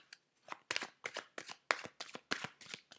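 Oracle cards are shuffled by hand in a run of about ten quick riffling bursts, each a crisp papery flutter with short gaps between, close and clear with no talking.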